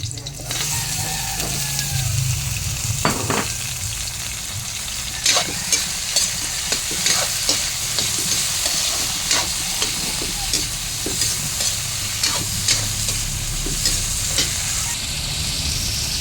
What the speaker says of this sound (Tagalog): Ito tayo sibuyas. Natalsik.